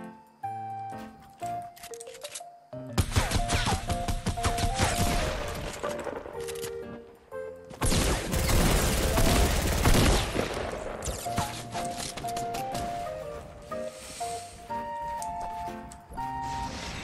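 Rapid gunfire and bursts of shooting from the battle royale game Fortnite, loud and dense, broken by short pauses and mixed with game music tones and effects.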